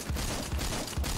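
A KSG-12 pump-action shotgun fires in the video game Phantom Forces, with three heavy booming shots spaced about half a second apart, loud and close.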